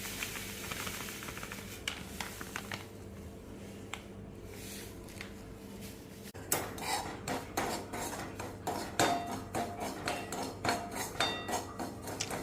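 Semolina being roasted in hot ghee in a pan, with a spoon scraping and clinking against the metal in a steady series of sharp strokes that grow louder partway through.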